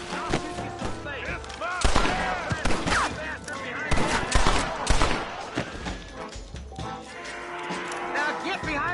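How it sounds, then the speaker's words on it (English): Western gunfight in Red Dead Redemption, with repeated rifle and pistol shots cracking out at close range amid shouted dialogue and cattle lowing in the background. "I'll shoot you some space."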